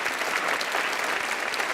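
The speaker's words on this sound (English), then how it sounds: "thank you for applauding them." Award ceremony audience at the Dayton Literary Peace Prize gives steady, dense applause, loud and even throughout the short stretch with no talk on top.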